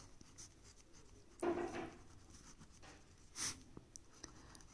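A pen writing on paper while a maths problem on integers is worked out, with a couple of brief scratchy strokes in an otherwise quiet room.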